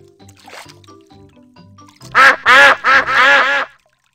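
Four loud, close duck quacks come in quick succession after a quieter stretch of soft tones and a brief shuffle, in a Peppa Pig video game.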